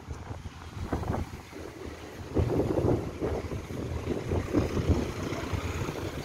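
Big ocean waves roll in at Patong Beach, Phuket, Thailand, a steady broadband wash of surf under gusty wind buffeting the microphone, swelling louder midway and staying continuous throughout with no one talking.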